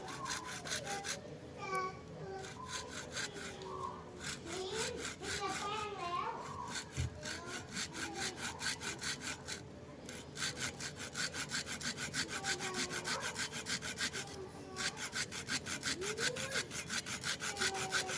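A small hand saw rasps back and forth in quick, steady strokes through hollow bamboo, with faint children's voices in the background.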